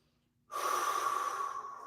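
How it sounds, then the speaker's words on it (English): Steady, close breathing during a calf stretch in a full-body workout, starting abruptly after a quiet moment and holding a long airy breath to the end. "we're gonna take a couple inhales and exhales here"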